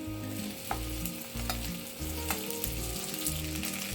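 Chopped okra pieces fry with green chillies in a hot pan, sizzling steadily with stirring scrapes, while soft background music plays underneath.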